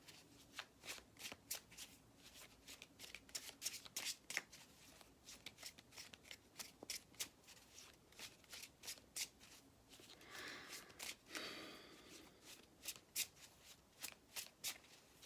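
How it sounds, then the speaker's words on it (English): Close, quiet riffle shuffling of a tarot deck, a quick run of crisp card flutters and taps with a brief softer rustle partway through. "I just really feel like I need to pull an essential tarot card."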